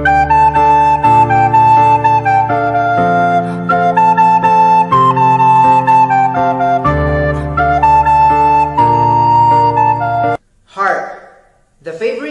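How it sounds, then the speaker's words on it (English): A recorder, a flute-like woodwind held vertically, plays a clear, steady melody of sustained tones over a low accompaniment, ending abruptly before brief noisy fragments. "Here is the sound of a recorder."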